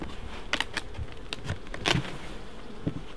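Honey bees buzz in a low, continuous drone as a beehive lid is lifted off, with scattered clicks and knocks of the lid and frame handling close by.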